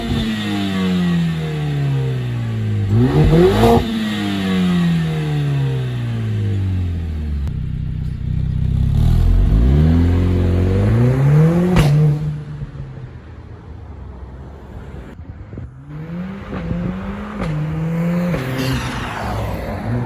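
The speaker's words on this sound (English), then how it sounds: "you're actually able to rev all the way to red line. Oh, them pops" A 2020 Mercedes-Benz CLA45 AMG engine in manual mode revs up toward redline several times, a loud, close, rising roar with shifts between pulls, followed by crackling exhaust pops as the revs drop.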